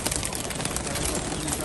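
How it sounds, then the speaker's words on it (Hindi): Pigeons coo close by under a dense, steady wash of noise, their soft calls blending into the busy background for a brief moment. "तो पहले इनको निकालते हैं कबूतरों को बाहर"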